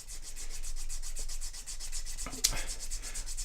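A grooved burnishing tool rubbed firmly back and forth along a leather edge gives a steady, rhythmic series of close, dry rubbing strokes at an even pace, with one brief sharper scrape near the middle.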